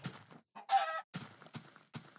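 Chickens clucking in a survival video game world shared with cows, sheep and pigs, a series of short close bursts separated by brief pauses, with no voices.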